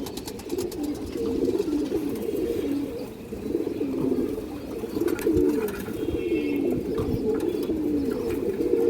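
Several flying pigeons coo in a steady overlapping chorus, their low throaty calls rolling continuously nearby, with faint chirps on top and no talk.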